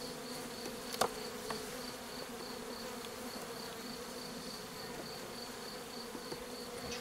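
Honeybees in an open Layens hive fill the air with a steady, dense buzz, a continuous close hum with a few brief louder passes and small knocks, no talking.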